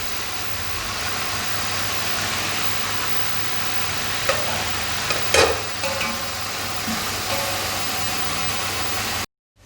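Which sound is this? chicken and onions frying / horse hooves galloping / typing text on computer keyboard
chicken and onions frying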